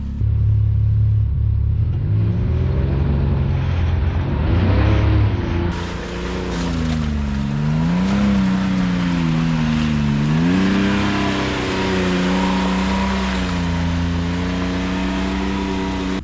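A side-by-side off-road vehicle's engine rumbles loudly on a West Virginia trail, its pitch rising and falling in waves as it climbs and eases over bumps, close and continuous without talking.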